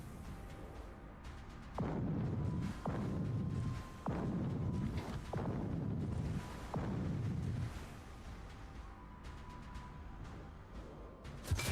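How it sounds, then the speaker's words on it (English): Depth charges detonate in World of Warships, a run of about five heavy underwater booms in quick succession, each a loud low rumbling blast that swells and cuts off, followed by a quieter rumbling tail with faint game sounds. "I'll go ahead and DC our depth charge on cooldown."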